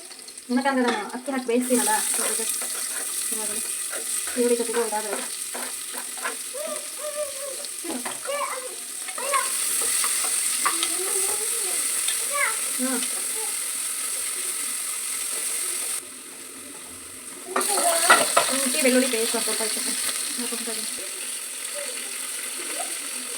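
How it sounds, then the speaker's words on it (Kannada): Onions and green chillies fry in a pan, a steady, moderately loud sizzle and hiss running throughout while a person talks over it. "ಈರುಳ್ಳಿ ಹಾಕೋಬಿಡೋಣ ಫ್ರೆಂಡ್ಸ್ ಮೆಣಸಿನ್ಕಾಯಿ ಫ್ರೈ ಆಯಿತು"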